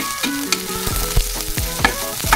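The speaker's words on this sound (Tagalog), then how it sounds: "Sunod natin ang ating sibuyas. Haluin lang, haluin." Onions sautéing with garlic in a hot pan, stirred briskly: loud close sizzling with quick spatula scrapes and clanks against the metal, several strokes in rapid succession, no voices.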